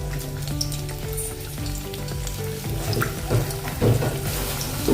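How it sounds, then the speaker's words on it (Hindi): Methi wheat-flour snack pieces frying in hot oil, a steady close sizzle with crackling bursts and faint clinks, louder toward the end. "ये देखिए तेल गरम हो गया है। अभी इसमें डालेंगे अपना नाश्ता।"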